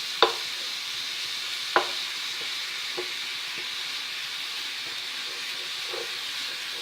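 Grated carrot and beetroot sautéing in a pan, a steady soft hiss of frying with two sharp early clinks of a utensil and fainter taps later, close and continuous without talking.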